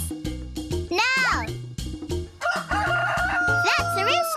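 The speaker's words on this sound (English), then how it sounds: "That's a rooster." A rooster crows with rising and falling calls over playful background music and cheerful sound effects, loud and close.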